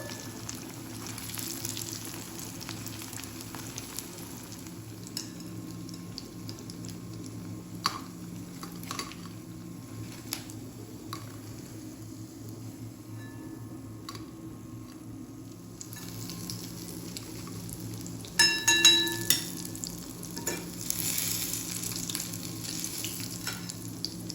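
Steady, quiet sizzling of cauliflower fritters frying in oil, with occasional clinks of a utensil against the pan and a brief louder burst of bubbling.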